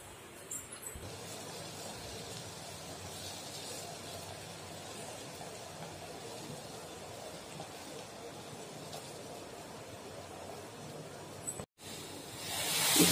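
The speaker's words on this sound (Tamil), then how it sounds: "இப்ப பால் நல்லா பொங்கி வருது." Milk heating in a pan on a stove for South Indian filter coffee gives a quiet, steady hiss with faint bubbling that runs throughout, broken by a brief gap near the end.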